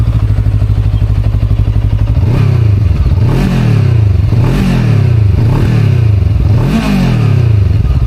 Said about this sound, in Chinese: 好，先打火听个声音。